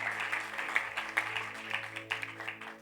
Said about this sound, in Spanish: Póngase de pie, dele un aplauso al Señor